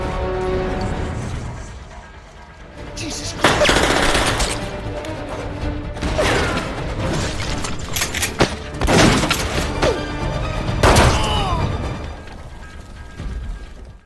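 Film shootout between FBI agents and Yakuza: several loud bursts of gunfire, some rapid like automatic fire, separated by metallic clicks and mechanical clatter, with a musical score underneath.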